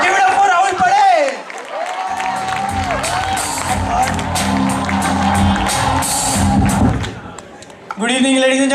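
Audience at a college roast show breaks into loud applause and cheering, steady clapping with whoops running for several seconds, and a voice is heard over the crowd.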